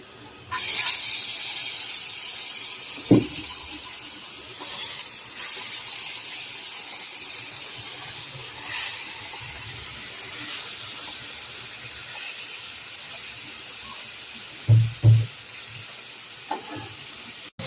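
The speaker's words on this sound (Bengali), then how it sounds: "এই যে এদিক দিয়ে মাছ ভাজতেছি" Fish sizzles steadily in hot oil, a continuous crackling hiss broken by occasional clinks and knocks of utensils against the pan.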